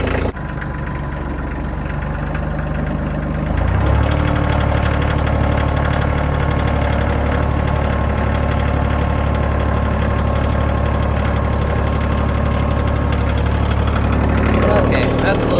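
A vehicle engine runs steadily with a rough, knocking idle-like drone, then jumps louder and higher after a few seconds as it picks up in a new gear, sustained and close throughout.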